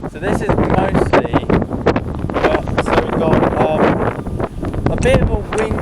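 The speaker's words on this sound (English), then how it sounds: "It is really windy today there." Strong wind buffets the microphone at an airport runway in windy conditions, a loud, continuous rumbling roar with gusty surges throughout.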